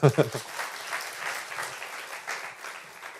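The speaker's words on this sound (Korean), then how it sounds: "박수 한번 주세요." Church congregation applauding after a Sunday sermon, a moderate, steady patter of clapping that follows a few brief spoken sounds at the start.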